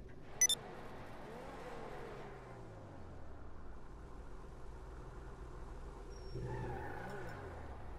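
X80 Proto supercar in GTA 5 revs and drives with rising and falling engine whine and a short tire squeal near the end, fairly quiet, with a brief click early on.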